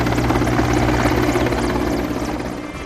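Air force aircraft flying low overhead while showering flowers over Delhi's Sir Ganga Ram Hospital, a loud continuous rotor-like engine roar that holds steady, then fades slightly toward the end.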